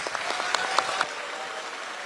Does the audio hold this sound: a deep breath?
no